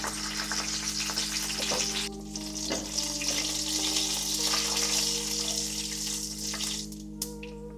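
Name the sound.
dried red chillies frying in oil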